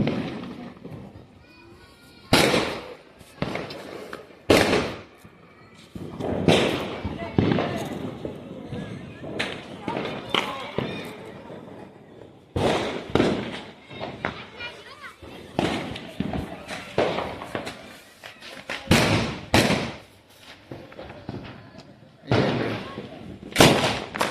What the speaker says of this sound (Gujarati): ચાલો હવે આ મરસી બોમ્બની ટ્રાય કરીએ।